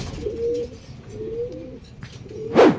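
A racing pigeon coos in low repeated phrases on its return from a hard 160 km race from Lopez, Quezon, followed by a brief louder flutter or rustle at the end.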